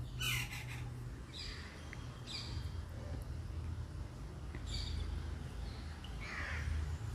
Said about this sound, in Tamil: காக்கா இப்போ கத்துது